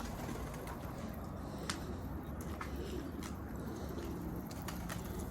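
Pigeons settle back into their loft after a flight, with faint cooing, soft wing flutters and light scuffling over a low steady background.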